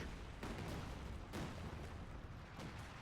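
A Company of Heroes 2 artillery barrage, several heavy booming impacts spread across a few seconds under a constant wash of battle noise, with no talk.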